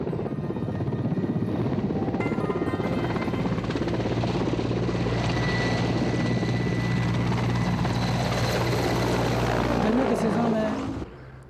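A subsidised passenger helicopter at the Stingri helipad in Lahaul, Himachal Pradesh, its rotor thudding loud and close in a steady churning roar that holds for about ten seconds, then cuts off sharply near the end.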